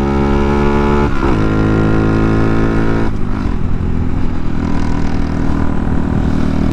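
Honda Monkey motorcycle engine droning loud and close as it climbs a hill on the freeway, its steady pitch dropping sharply near one second and again near three seconds, with strong wind rush and no talking.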